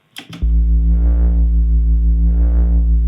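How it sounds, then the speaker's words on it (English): A deep, low-tuned sine wave synth tone starts after a couple of brief clicks, then holds steady, its pitch bent by an LFO so it slowly wavers, rising and falling. "I used a very low tuned sine wave, and I used this LFO here to control the pitch bend"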